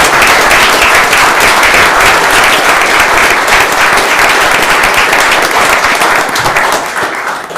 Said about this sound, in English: Can we please give Sergeant Jitto a round of applause?